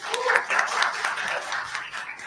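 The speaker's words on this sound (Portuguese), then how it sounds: "Palmas aí para o Paulo Freire." An audience in a university auditorium applauds during a debate session, a brief burst of hand clapping at moderate loudness that tapers off over a couple of seconds.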